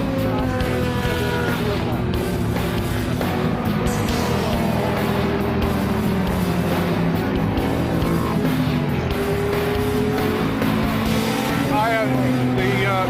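Vintage race car at Lime Rock with a broken third gear, its engine droning and whining loudly throughout with rising and falling revs, while someone talks over it.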